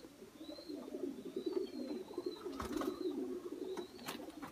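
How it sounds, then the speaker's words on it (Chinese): A stray, sick racing pigeon in a rural loft coos in a low, wavering murmur, steady and close, with faint high chirps from other birds around it. "这是一只病鸽子，这也没用了"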